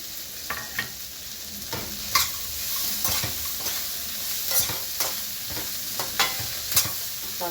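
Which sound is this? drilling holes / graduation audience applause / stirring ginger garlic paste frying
stirring ginger garlic paste frying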